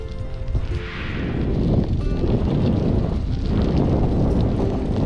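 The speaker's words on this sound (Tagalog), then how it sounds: "ang lakas ng hangin no" Strong wind roars against the microphone in a loud, continuous low rumble that swells and holds steady, with no talking, while cycling at night near an airport.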